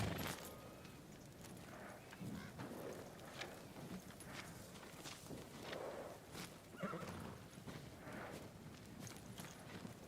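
A horse in Ghost of Tsushima, a black steed, neighs and whinnies several times over a steady clip-clop of hooves and game ambience, all at a moderate, even level.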